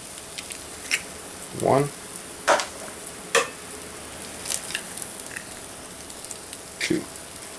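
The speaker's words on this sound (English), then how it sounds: "And now I'm going to crack them eggs." Eggs frying in a pan over a soda can alcohol stove give a faint, steady sizzle, with a few brief clinks and scrapes and a short spoken word over it.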